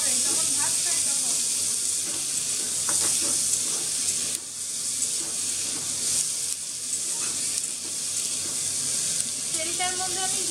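Chopped onion, garlic and tomato sizzle loudly in oil left over from frying fish, a dense crackling hiss with scraping and stirring noises throughout and a voice faintly in the background.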